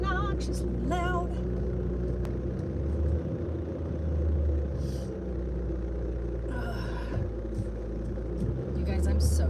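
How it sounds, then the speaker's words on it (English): A loud car engine rumbles deep and steady while driving. The low drone swells and eases a little as someone talks over it. "Sorry, my car is obnoxiously loud."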